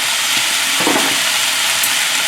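Vegetables sizzle loudly in a hot pan during a Szechuan chicken and vegetable stir-fry, a dense, continuous hiss with a brief stirring scrape near the middle.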